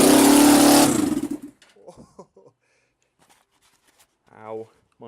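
Suzuki GS500 motorcycle engine fires up and races loudly at a high idle for about a second, then cuts off abruptly, leaving short bursts of talk in a quiet space.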